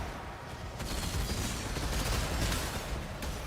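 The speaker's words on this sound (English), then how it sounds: "I don't like those explosions." Explosions in the video game Path of Exile form a continuous, loud, rumbling barrage of overlapping blasts with no pause.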